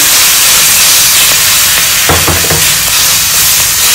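Mustard seeds crackle in hot oil for Maharashtrian green chilli thecha, making a loud, continuous sizzle and hiss with a short burst of sharper pops partway through.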